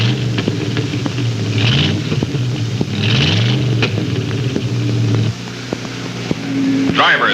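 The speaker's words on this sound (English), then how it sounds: "cars charge into the track for the first time" 1960 NASCAR stock cars lap the banked oval at Charlotte Motor Speedway, engines roaring loudly and steadily with rising and falling pitch sweeps as cars pass near, over a continuous rumble with a voice talking.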